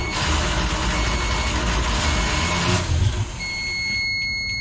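Engine on a Luhrs 28 boat catching and running after carburetor work, a steady close rumble that cuts off near the end, leaving a thin electronic beeping from a depth finder.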